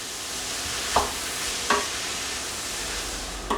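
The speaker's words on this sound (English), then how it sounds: "you're just sautéing these vegetables with the garlic and onions" Squash and carrots sautéing with garlic and onions in a pan, a steady soft sizzle with three brief scraping stirs of a utensil spaced through it, no talking.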